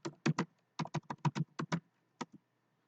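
Computer keyboard keys typed in a quick irregular run of about a dozen crisp clicks, close and clear against silence, as a document title is entered.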